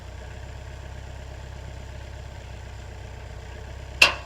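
A Polaris Ranger 990 utility vehicle fitted with tracks for snow idles quietly with a low, steady rumble, heard at a distance; a sharp click or knock sounds near the end.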